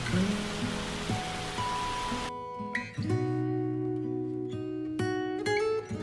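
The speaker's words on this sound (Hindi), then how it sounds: "कुछ ही समय बाद बारिश होनी शुरू हो जाती है।" Steady hiss of falling rain for a couple of seconds, then the noise thins as sustained musical tones continue.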